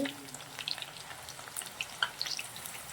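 Chakli frying in hot oil, a faint, soft sizzle with scattered small pops and bubbling crackles, quiet and steady throughout.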